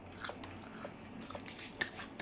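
McDonald's fries eaten in Japan, soft limp fries chewed close to the mic with faint, irregular mouth and bite sounds, quiet and with no talking.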